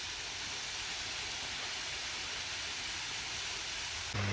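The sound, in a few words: waterfall on Vancouver Island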